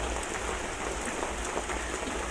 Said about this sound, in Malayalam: മഴ വീണ്ടും കൂടി.